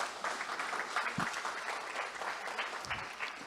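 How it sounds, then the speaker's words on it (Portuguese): A church congregation claps during a sermon, producing a continuous, fairly faint, even spread of many hands clapping at a distance, with no distinct voices over it. "Aplaude Ele por isso,"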